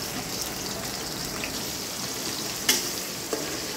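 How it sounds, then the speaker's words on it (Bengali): Chopped tomato hits hot oil with frying garlic, green chili and whole cumin, raising a dense, even sizzle like light rain, broken by one sharp clatter of a utensil and a softer tap. "এখন এই টমেটো কুচিগুলো দিয়ে দেব।"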